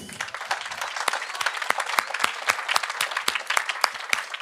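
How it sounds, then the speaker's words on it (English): Audience applause at a large partner-supported event, a steady patter of many hands clapping close by, loud and sustained for the whole stretch with no voices over it. "So big applause for them, please."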